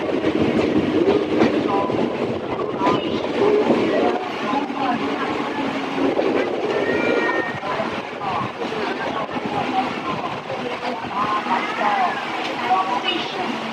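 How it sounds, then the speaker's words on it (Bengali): A local train rumbles and clatters continuously while rolling into Gopalnagar station, wheels clacking on the rails, with people talking nearby throughout. "গোপালনগর স্টেশনে ট্রেন এন্টার করছে"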